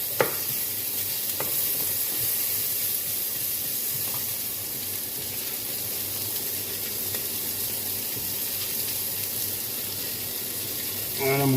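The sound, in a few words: onions frying and being stirred in a pan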